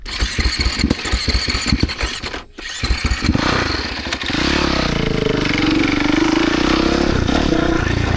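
A supermoto dirt bike engine revs hard in short bursts, drops briefly, then holds a steady loud drone as the rider pulls a wheelie in first gear, close and continuous.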